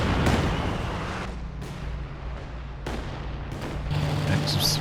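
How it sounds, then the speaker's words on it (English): Katyusha rocket artillery barrage in the World War II strategy game Company of Heroes 2, a loud, continuous roar of blasts and rumbling impacts with sharp bursts near the start and around the third and fourth seconds, with no gaps in the din. "here come the Katyushas"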